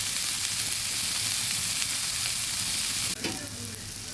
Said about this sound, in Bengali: বারবার করে নেড়ে নেড়ে নেড়ে নেড়ে আমি মুচমুচে ভাজি করে নিয়েছি।